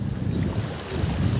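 Strong wind buffets the microphone in a steady low roar, with rushing open-air noise throughout and no voices, in Puerto Galera.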